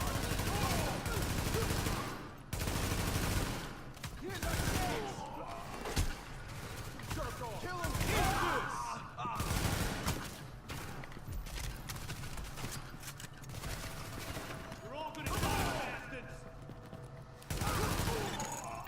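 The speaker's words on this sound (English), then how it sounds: "The escort party's taking heavy fire from the roof." Heavy gunfire in The Division, bursts of rifle and machine-gun fire crackling in repeated volleys over a dense game soundscape, with voices talking between the shots.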